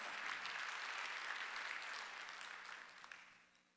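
A church congregation applauds steadily during a Sunday worship service, a dense wash of clapping that holds for a few seconds and then gradually tapers off.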